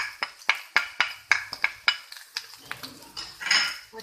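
Spoon stirring chicken with onion and garlic in a pan, a series of sharp metallic scrapes and clinks against the pan at a brisk, uneven rhythm, followed by softer sizzling and shuffling.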